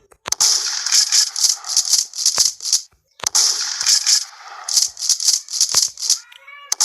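Gunfire in a video game: two long volleys of rapid, loud shots with sharp cracks, separated by a brief pause and ending in a few scattered shots.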